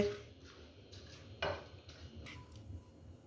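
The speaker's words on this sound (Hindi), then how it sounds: "अब देख रहे हैं कि सैम्यूल जो है वो इसको मिक्स कर रहे हैं बहुत ही अच्छे तरीके से।" Macaroni salad with sugar is stirred in a bowl, with quiet scraping and soft clinks of a utensil against the dish, one sharper knock midway, fairly close and faint.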